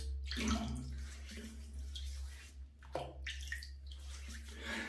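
Water running into a basin for wetting the face before a shave with a safety razor, a steady close splashing flow that continues throughout with small surges and spatters, in a bathroom setting.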